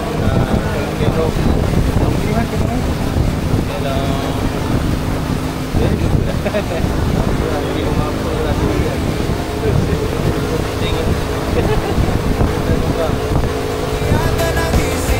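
A boat travels across open sea on the way to a kelong fishing platform, with a steady engine drone, wind buffeting the microphone and washing waves running continuously and loudly throughout.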